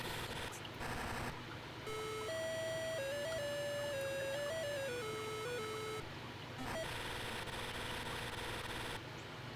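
A TI-99/4A home computer running the game "Socrates" plays a sound effect: a short electronic melody of stepped, buzzy tones lasting a few seconds, set against steady background hiss with brief noisy bursts before and after.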